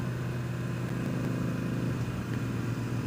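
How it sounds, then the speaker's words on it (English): A vehicle engine idling with its exhaust silencer removed, a steady low rumble with a droning tone, heard alone without talk and fairly quiet throughout. "I removed the silencer on my exhaust."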